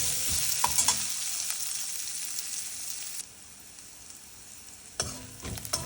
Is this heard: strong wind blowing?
no